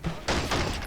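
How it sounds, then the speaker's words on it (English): Gunfire erupts in a video game battle between Fallout NCR forces and Halo insurgents, a dense burst of overlapping shots and blasts that starts abruptly and stays loud through the short moment. "Oop, everything's opening fire."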